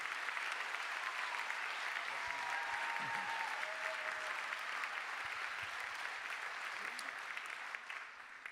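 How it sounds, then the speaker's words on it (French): A church gathering at Paray-le-Monial breaks into sustained applause, a dense, even wash of clapping from a large crowd that holds steady for several seconds before easing slightly near the end, with no speech over it. "on peut l'applaudir et rendre grâce à Dieu"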